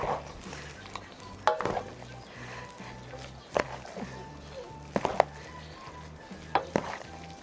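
A large batch of potato salad being mixed in a bowl, with soft wet churning and several sharp clinks and knocks of the utensil against the bowl at irregular moments.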